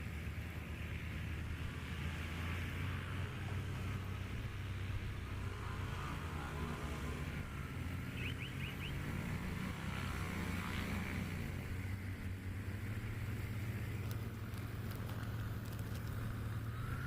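Several Just Aircraft Super STOL planes taxi at an airpark, their propeller engines droning steadily at a distance beneath a broad wash of wind noise.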